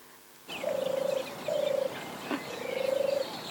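A turtle dove gives its soft, purring coo three times, each roll lasting about half a second to a second, close and clear over quiet outdoor background with a faint brief chirp between.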